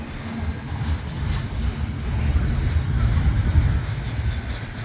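Freight train of intermodal containers followed by manifest cars rolling past, a steady loud low rumble of wheels and cars that swells slightly midway and holds throughout, with no talking.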